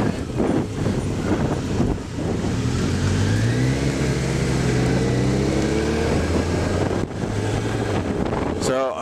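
Motorbike ride along tight, narrow roads, with a steady loud engine drone rising and falling in pitch through gear changes, heavy wind buffeting the microphone throughout.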